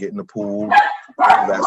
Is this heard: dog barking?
yes